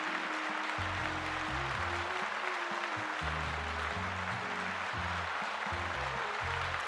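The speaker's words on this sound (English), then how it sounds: "Let's give them a little round of applause" Steady, dense applause continues throughout without break. Low tonal hum and music-like tones sit beneath the clapping, and no talk is heard.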